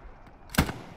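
A single sharp gunshot cracks in Hell Let Loose, loud and close, with a short echoing tail over a quiet background.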